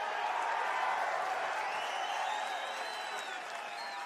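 A crowd at the UFC 305 press conference in Perth applauds and cheers in a dense, steady wash of clapping, with occasional whistles and whoops.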